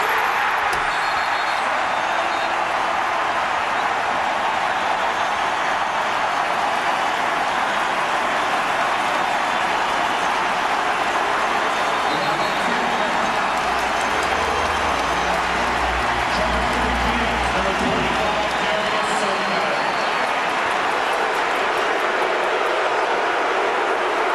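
Basketball arena crowd in a 2004 playoff game between the Mavericks and Kings roars steadily, a loud dense wash of cheering that swells midway and holds throughout with no clear talk.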